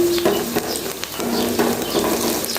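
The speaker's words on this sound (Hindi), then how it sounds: "अभी मैं इसमें ये जो ड्राई मसाला ये मैं डाल रही हूँ" Dry masala hitting onions frying in oil in a pan for matar pulao, a steady close sizzle with soft stirring scrapes throughout, no talking.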